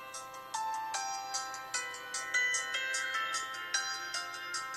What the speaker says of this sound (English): let me show you there a little bit of one of the preloaded videos, so that you can listen to the loudspeaker.